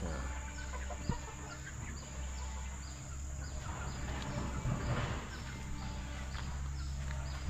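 Chickens clucking softly and steadily in a coop nearby, with occasional scratching noises and a low constant hum in the background.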